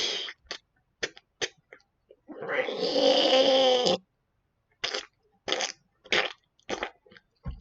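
A voice imitates a cat in a tabletop role-playing game, starting with short scattered purring or hissing bursts, then a sustained nasal meow-like growl of about a second and a half, then more short bursts.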